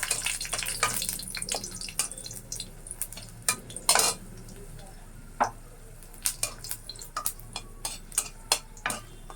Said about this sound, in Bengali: শুকনা মরিচও ভাজে নেবো একসঙ্গে একটু লাল করে রসুনটা ভাজবো